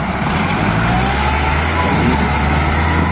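A Kubota L4708 four-wheel-drive tractor's diesel engine runs steadily with a loud, constant low rumble and drone, close by and unchanging throughout.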